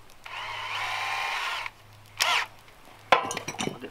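A power drill fitted with a drill bit, used while building an off-grid pole barn, whirs steadily and close for over a second, then gives two short, sharp bursts. No one speaks.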